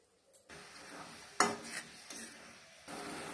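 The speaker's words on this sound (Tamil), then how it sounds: "நல்லா வறுத்ததுக்கு அப்புறம் நம்ம வெல்லம் போட்டு கரைச்சி வச்சிருக்கிறத இதுல ஊத்திடலாம்" Dissolved jaggery liquid poured into a roasted mixture for sweet kozhukattai, giving a steady sizzle with scraping stirs and a sharp spatula knock near the middle, close and moderately loud, no talking.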